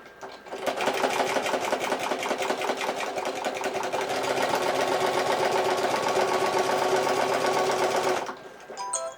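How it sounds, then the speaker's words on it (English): A sewing machine fitted with a walking foot stitches steadily through thick purse material, its rapid rhythmic clacking running close and loud for about eight seconds before stopping. "the walking foot makes a little clacking noise as it does it"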